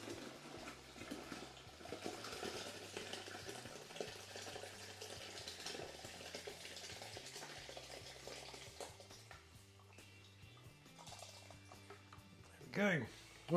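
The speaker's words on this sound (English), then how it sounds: "gently I'm going to pour it from one bucket into the next, trying to splash it as little as possible" Gooseberry wine is poured gently from one bucket into another, making a soft, continuous trickling and splashing that stays quiet and close, followed by a couple of sharper knocks at the end.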